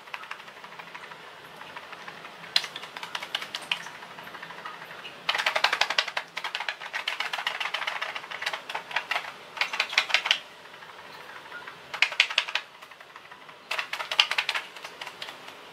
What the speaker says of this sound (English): I'm going to show you the sound of shaking it.